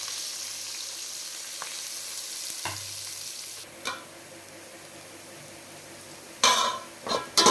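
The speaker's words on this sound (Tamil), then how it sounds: "வெங்காயம் நல்லா பொன்னிறமாக வதங்கணும்." Steady sizzling of onions frying in hot oil, continuous and close, with a few clinks of a utensil against the pan near the end.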